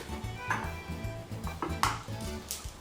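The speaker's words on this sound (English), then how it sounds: "I'm cracking my eggs in a coffee cup so I don't get no shells in my semolina" Eggs are cracked against a coffee cup while making fresh semolina pasta, giving several sharp, close ceramic taps and clicks in an irregular rhythm over a low kitchen hum.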